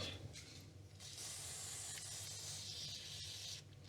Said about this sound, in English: Also cleaning all the contacts with electro spray or contact cleaner.